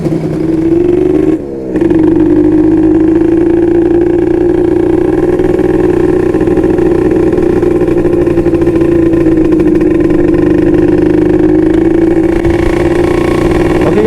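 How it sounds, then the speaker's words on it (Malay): Motorcycle fitted with a Dinamik 120 exhaust starting up, then settling into a loud, steady idle with a throbbing mid-pitched drone that holds for several seconds, with no talking. "Jadi saya perlu start motor dan juga kita perlu test ride guys. Jom guys, kita start engine dulu."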